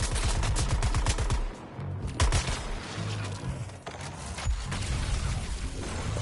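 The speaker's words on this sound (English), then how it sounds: "it can shoot through buildings. Tank's getting a lock on me" Tank gunfire in the video game Suicide Squad: Kill the Justice League, rapid bursts of loud automatic shots with heavy booming impacts, continuous and close across the scene.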